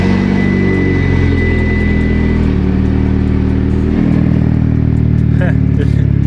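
A car engine, its solenoid just cleaned with brake cleaner, starting up and running with a loud, close, steady rumble and clatter, its pitch shifting slightly as it idles.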